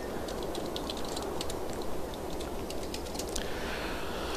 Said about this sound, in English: Yeah, I gotta type it out.